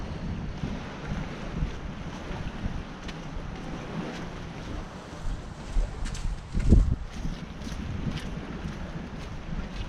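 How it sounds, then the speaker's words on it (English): Ocean breeze gusts buffet the microphone on a seaside walk along the New England coast, a continuous low rumbling wind with surges and one sharp blast near the end, faint surf underneath. "this ocean breeze is making this walk all the more better"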